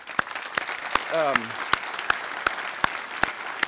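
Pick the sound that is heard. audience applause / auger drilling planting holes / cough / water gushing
audience applause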